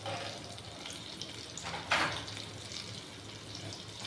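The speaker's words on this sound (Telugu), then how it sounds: "దాన్ని బాగా పచ్చివాసన పోయే వరకు వేయించుకోవాలి." Homemade rasam powder frying in hot oil with asafoetida for tomato rasam, a steady soft sizzle throughout with a brief louder hiss near the middle, no talk.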